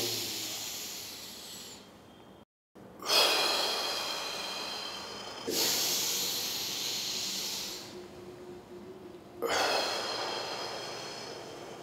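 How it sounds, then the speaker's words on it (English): A person takes deep, maximal inhalations through the nose or mouth, each one a long, close, airy hiss lasting a few seconds, repeated about three times with brief breaks between. "So I'm breathing to the maximum."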